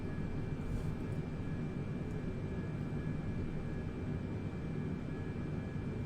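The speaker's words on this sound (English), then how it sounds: "let's watch Wadey's takeoff here" A light aircraft takes off at night, its engine a steady, loud broadband roar that holds constant for several seconds with no voices over it.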